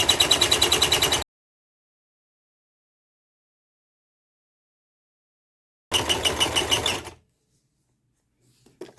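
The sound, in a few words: sewing machine stitching paper ticket snippets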